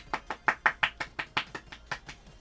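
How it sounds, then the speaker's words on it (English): Hands clap about a dozen times in a quick, steady rhythm. The claps are close and crisp, and there is no talking. "you getting them good claps?"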